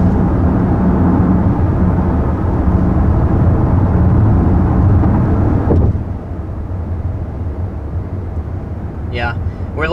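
Steady low road rumble and wind hum inside a moving 2021 three-row SUV, loud and continuous, dropping slightly in level partway through, with a brief faint high chirp near the end.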